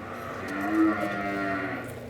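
A cow held in a squeeze chute on a southern cattle operation lets out one long, loud, close moo with no talk over it.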